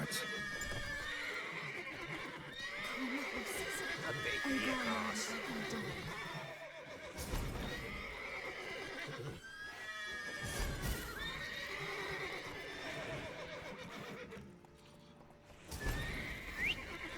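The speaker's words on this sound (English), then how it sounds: "Gotta calm all the horses before they wake the guard." Several horses whinny and neigh over steady clip-clopping hooves in The Witcher 3: Wild Hunt, with game-style ambience and occasional sharp effects throughout.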